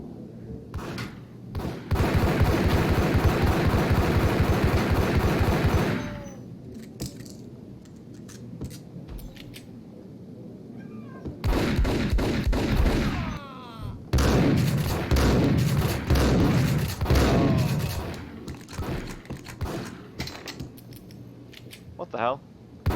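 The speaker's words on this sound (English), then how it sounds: "She's firing at me?" A video game firefight unfolds as a cop opens fire on a hustler, with dense bursts of rapid automatic gunfire and mechanical clatter in several loud stretches separated by quieter gaps, with talking heard between.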